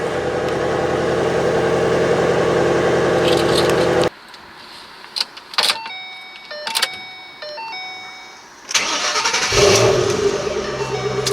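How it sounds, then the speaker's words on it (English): A 2012 Ford Mustang Shelby GT500 engine roars loudly, then cuts off abruptly, followed by a few clicks and electronic chimes before the engine starts and rumbles back up. "key goes in the slot, and let's get it started"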